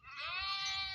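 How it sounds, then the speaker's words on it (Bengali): A single drawn-out bleat from sheep or goats among livestock on waterlogged farmland, a faint, distant, wavering call lasting about a second. "ওই যে ভেড়া, হাজার হাজার ভেড়া, গরু ছাগল হাঁস মুরগি সব কিছু"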